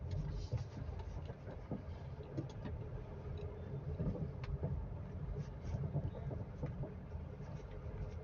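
A car creeps slowly in first gear over a steep speed breaker in a busy market area, its low engine hum and road rumble steady, with faint traffic noise and occasional knocks around it.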